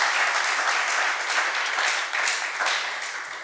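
A crowd applauds steadily and fairly loudly throughout, a dense wash of clapping that tapers slightly at the end.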